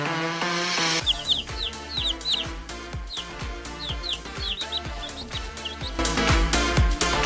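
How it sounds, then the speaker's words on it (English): Chick chirping plays as repeated high, bright peeps over a steady musical backing. "chick,"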